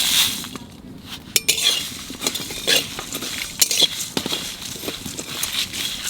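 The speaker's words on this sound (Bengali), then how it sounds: "শুকনো খোলায় কটা মশলা ভেজে নেব।" Cumin, coriander, black pepper, fennel and dried chilli are dry-roasted in an oil-free pan, making irregular scraping clicks and rattling taps as the whole spices are stirred and tossed.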